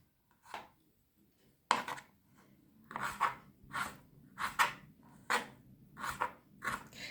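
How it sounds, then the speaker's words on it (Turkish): Knife chops washed dried apricots on a cutting board, a series of about nine separate crisp cuts in an uneven rhythm, close and fairly quiet. "Kayısılarımızı çok küçük doğramıyoruz arkadaşlar"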